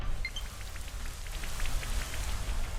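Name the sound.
Rain Dance rain effect in Pokémon video game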